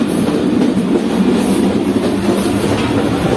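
The Mohen Jo Daro passenger train rolls along its rails on the route from Karachi to Sehwan, a loud, steady rumble and rattle heard close from inside the coach, with no talk.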